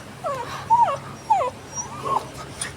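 A dog whimpers close by in a series of high, wavering whines with short pauses between them, and no voices are heard.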